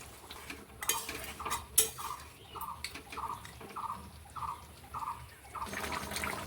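Mutton stock poured into a pot of cooking mutton, then a spoon stirring in a steady rhythm of about eight scraping strokes against the pot, with soft bubbling beneath; close and fairly quiet.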